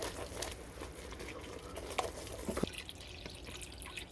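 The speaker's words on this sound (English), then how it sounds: "just gonna pour some water." Water poured from a container into a pan of gravy made with flour and seasonings for a roast, a steady close trickle and splashing patter with a few sharper drips, no voices.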